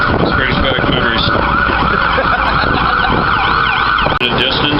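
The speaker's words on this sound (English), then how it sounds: "Here comes an ambulance." An ambulance siren wails through a Boston street, its rising and falling tone loud and close over steady traffic rumble, sustained throughout.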